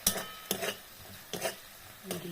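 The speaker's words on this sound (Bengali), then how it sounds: "এরকম মশলাটা আমি কেমন করে কষাচ্ছি, অল্প তেলে মাঝে মাঝে জল দিয়ে দেবো" Spice paste being sautéed in a little oil in a pot, four distinct scraping stir strokes at roughly half-second intervals over a faint low sizzle, close and quiet.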